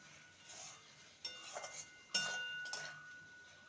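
A utensil mixes spiced masala potatoes in a bowl, producing a few quiet clinks and scrapes against the bowl at uneven intervals, with no voices.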